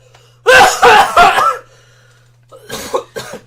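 A series of harsh, close coughs: three quick loud ones, a pause, then two softer coughs, over a faint steady hum.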